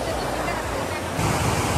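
A loud, steady roar of rushing water fills the whole clip from a close waterfall in the rain, with a gusty, noisy edge that swells near the end.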